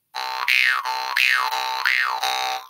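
A harmonica played with the throat closed sustains a bright, reedy chord, bending into three repeated wah-like swoops, loud and close with no voices.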